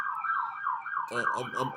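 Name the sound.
sirens in the street downtown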